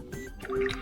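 A brief, fairly loud synthetic chime with a squishy, watery character plays as the fingerprint unlock animation fires on an OPPO Reno 14 smartphone, heard alone.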